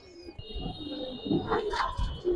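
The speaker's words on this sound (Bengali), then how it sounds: "এই কবুতরটা খুব ভালো লাগে" A Giribaz pigeon coos softly at close range, low throaty calls rising toward the end, with faint rustling around it.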